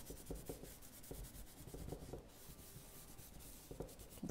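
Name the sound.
cloth rubbing wax into a cane basket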